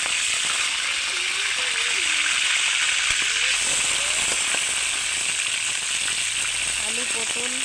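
Potatoes, pointed gourd and ivy gourd fry in hot oil, giving a loud, steady, close sizzle that crackles without pause throughout.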